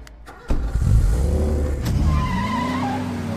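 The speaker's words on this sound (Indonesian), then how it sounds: "Mereka tancap gas menjauh dari hotel." A stolen car speeds away from a hotel in an Indian film: an engine roars up sharply with tire noise and a rising rev, loud and close, against a film soundtrack.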